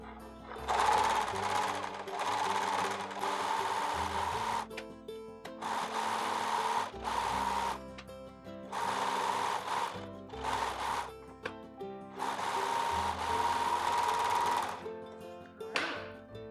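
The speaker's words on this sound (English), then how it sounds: "I'm going to do it with the terry cloth side up, and I'm just going to serge down each side" A serger sews down the edges of terry cloth wipes, its fast mechanical chatter running in several loud bursts separated by brief pauses, heard up close with no talking.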